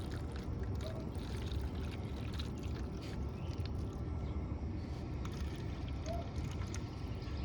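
Chicken stock poured over a pork butt with peppercorns, chili flakes and garlic, a steady soft splashing pour running continuously at close range.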